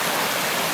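A stream crossed on foot during a hike on the GLT Eastern Section rushes in a steady, dense hiss of flowing water, close and loud, with no voices.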